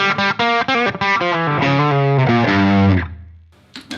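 A bright, mid-heavy electric guitar on the bridge pickup through a Seymour Duncan 805 overdrive pedal plays quick staccato chords, then a sustained run of notes that rings out and fades to near silence.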